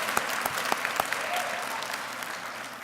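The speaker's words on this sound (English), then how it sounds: "You deserve a round of applause." An audience at a nursing graduation ceremony breaks into applause for the class of 2019, a dense wash of clapping with a few sharper claps standing out, moderately loud and fading slightly.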